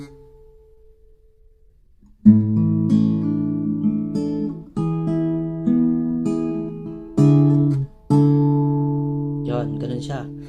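Acoustic guitar in a chord tutorial, strummed in several ringing chords with a hammer-on on the first string, after a near-silent opening, each chord sustaining and decaying before the next.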